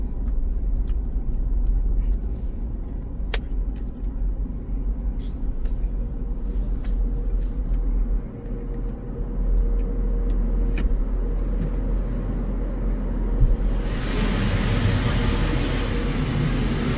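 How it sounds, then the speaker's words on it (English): An automated car wash runs around a car as it passes through, a steady loud rumble and churning of water and brushes, with a brighter hiss of spray building near the end; a voice speaks faintly under it. "we are going to this cool automated car wash that recognizes me by my license plate"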